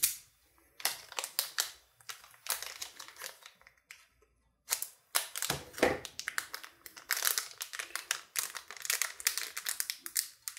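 Crinkly plastic rustling and sharp cutting snips as a thermally sealed plastic postal package is cut open with a knife or scissors, irregular bursts up close, with a brief pause midway before the crackling resumes.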